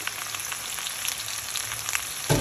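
Continuous soft sizzling of potato patties frying in oil, even and close, ending with a brief clatter.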